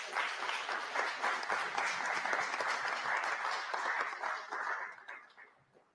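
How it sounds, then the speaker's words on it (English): Steady applause from a debate audience in Jamaica, a dense patter of many hands clapping for several seconds before fading out, heard alone without talk. "You can clap."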